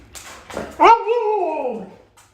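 A husky gives one drawn-out, wavering howl-like vocalization indoors, rising then sliding down for about a second, preceded by brief indistinct talk and sounds.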